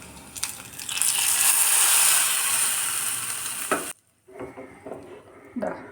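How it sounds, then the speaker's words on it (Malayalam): Fried shallots and coconut bits are tipped into a chickpea kadala curry: a loud sizzling hiss swells for a few seconds, then cuts off sharply, leaving quieter bubbling and a few clinks. "ചുവന്നുള്ളിയും നാളികേരക്കൊത്തും എല്ലാം നന്നായിട്ട് മൂത്ത് വന്നു ഇനി ഇത് കടലക്കറിയിലേക്ക് ചേർത്ത് കൊടുക്കാം"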